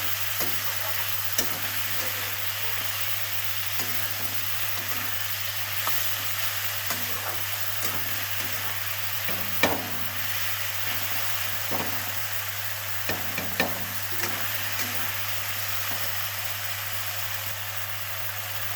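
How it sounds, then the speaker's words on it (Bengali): Mushrooms stirred into softened tomatoes frying in a pan, a continuous close sizzle over a low steady hum, broken by intermittent scraping and tapping of the spatula. "এবার আমি দেবো মশরুমগুলো। মশরুম দিয়ে একটু নাড়াচাড়া করবো।"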